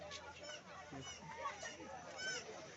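Poultry in an open field, faint honking and clucking calls scattered through quiet outdoor background, with a voice talking softly over it.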